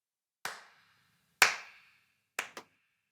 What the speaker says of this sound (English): Then what I did was I layered on top some claps.